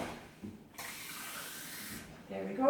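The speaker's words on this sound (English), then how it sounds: "Go and grab yourself a glass of water." Water runs from a kitchen tap into a glass, a brief splash and then a steady hissing stream that shifts in pitch as the glass fills.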